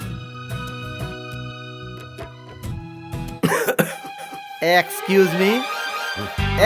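A man coughing in a Hindi-dubbed action movie scene, rough repeated coughs breaking in partway through after a stretch of music, loud and close with other voices around.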